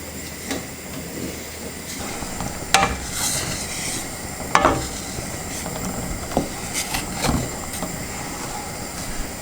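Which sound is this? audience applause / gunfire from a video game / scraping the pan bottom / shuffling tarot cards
scraping the pan bottom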